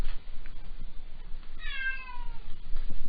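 A cat meows once in the middle, a short rising-then-falling call at moderate distance, over a quiet indoor room background with faint rustling.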